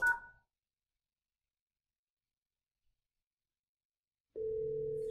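A ringback tone on a Zultys 47G VoIP desk phone placing a call to a ten-digit cell number. A short beep opens the clip, followed by a long silence. Then a steady, moderately loud ringing tone starts near the end.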